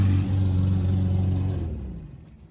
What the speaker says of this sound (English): Apologize for the mow noise in the background.